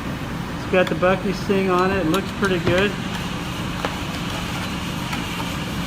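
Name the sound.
fan running in the background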